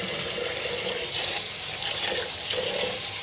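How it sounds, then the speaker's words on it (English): Rice is washed in water, with a continuous rattling swish of grains churning and sloshing close up, rising in a few gentle surges. "the first thing to do is we are going to wash the rice"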